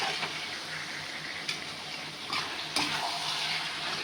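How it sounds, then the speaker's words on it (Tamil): Chicken with tomato and masala sautés in a pan, giving a soft, steady sizzle with occasional stirring scrapes and no voices. "சிக்கன் ஆட் பண்ண உடனே நல்லா வதக்கணும்."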